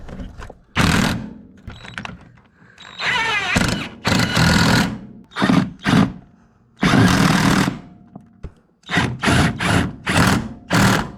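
Engine mount bolts on an Acura TL are tightened with an air ratchet or impact tool, which fires in several loud, close bursts of rattling whirs separated by short pauses.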